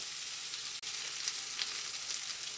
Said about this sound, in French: je fais sauter mes légumes jusqu'à ce que les oignons et les poivrons soient légèrement cuits